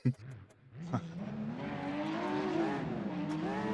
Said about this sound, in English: Oh, the sound of race cars leaving the pits.